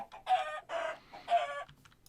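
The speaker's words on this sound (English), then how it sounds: "spawn another chicken" A chicken in the Minecraft video game clucks three times in quick succession, close and clear, with short pauses between the clucks.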